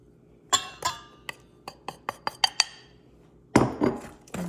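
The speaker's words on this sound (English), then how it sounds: "And just stir that up until it's well blended." Spoon or utensil clinking against a glass mixing bowl while banana bread batter with pecans and flour is stirred, a series of sharp separate taps followed by a denser scraping burst, close and alone.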